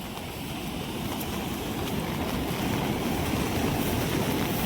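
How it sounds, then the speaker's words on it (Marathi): Floodwater surges down the swollen Girna river near a temple at Surgana, a dense, continuous roar of rushing water with steady wind-like rumble and no pauses. "इथे असं पाणी वाहू राहिलं आहे"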